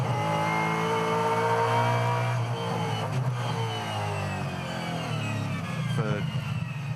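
Supercars V8 race car held in third gear at the Townsville 500 street circuit, engine loud and steady with harmonic bands shifting as revs change and other cars around it, a commentator's voice running underneath.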